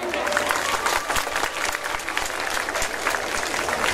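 Steady, loud applause from an audience at an anniversary show with a tropical music group, dense clapping filling the whole stretch without pause.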